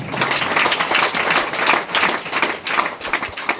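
Continuous applause from a group, many hands clapping steadily and loudly for the whole stretch with no pauses.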